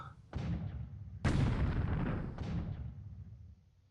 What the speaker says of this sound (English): Now we do get some 150 millimeter shells into the transports this time.